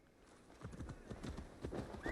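Horse in Assassin's Creed Valhalla, with rapid clip-clop hoofbeats of a gallop running steadily throughout and a short rising whinny near the end, moderately loud in the game's mix.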